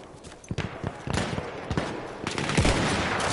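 Gunshots in a PS4 video game, a rapid string of close sharp shots and bursts, irregular and dense, running through the whole stretch.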